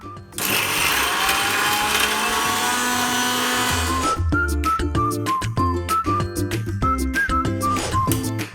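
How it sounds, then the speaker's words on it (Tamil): A kitchen mixer grinder whirs loudly and steadily as it grinds coriander chutney for about four seconds, then stops and restarts in short on-off pulses with a rising and falling whine. "இப்போ நம்ம கொத்தமல்லியை மிக்சியில் போட்டு அரைச்சிடலாம்"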